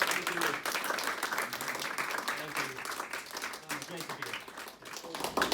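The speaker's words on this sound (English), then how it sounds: "if we could give a round of applause" Applause from a lecture audience at the University of Texas at Austin, many hands clapping in a dense, steady wash that holds at an even level throughout, with some talking mixed in under the clapping.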